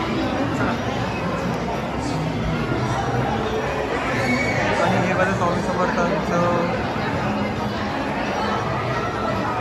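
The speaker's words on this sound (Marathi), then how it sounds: "सो गर्दी आहे" Dense crowd chatter and babble fill a busy Swami Samarth temple courtyard in Akkalkot on a festival day, loud and continuous, with children shouting now and then and someone speaking over the noise.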